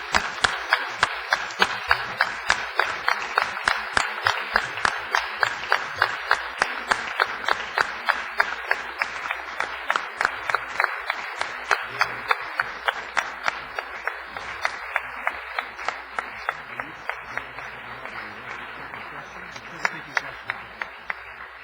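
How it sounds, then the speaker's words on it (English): An audience at a news conference claps for Prince Ghazi as he leaves, in a long, rhythmic run of synchronized claps at an even, steady beat that barely fades. "Let's give him a round of applause as he leaves."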